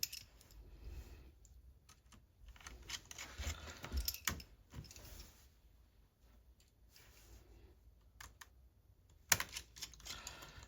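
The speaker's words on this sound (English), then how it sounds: "grab my screws, put these screws back in" Small screws being driven back into a Samsung Galaxy Tab S10 Lite (SM-X400) during a screen repair: scattered faint close-up clicks and ticks, with quiet handling noise between them.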